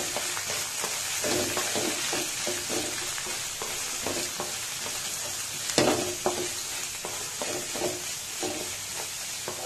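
Curry leaves and onions frying for a Malabar shark curry, a continuous close sizzle broken by repeated scraping strokes of a spoon stirring the pan.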